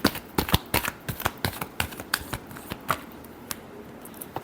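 Tarot cards are shuffled by hand, giving a rapid, irregular run of crisp snaps and flicks close up, with quiet pauses between bursts.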